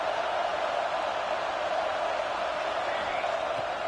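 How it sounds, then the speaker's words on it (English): A large stadium crowd at a UCLA versus Penn State college football game roars in a steady, dense wash of noise that stays loud and unbroken throughout. "Listen to this crowd just shaking the girders of this place"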